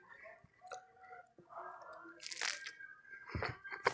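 Crunchy bites and chewing of a sandwich, close up, with several sharp crunch bursts separated by softer chewing and small mouth sounds, no talking.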